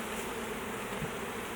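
A honeybee swarm in a hive box gives off a dense, steady buzz, close and continuous with no pauses.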